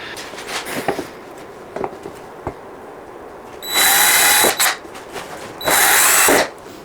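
A power drill bores holes in two loud, whining bursts of a second or so each, with scattered handling knocks and clicks between them, close up and without speech.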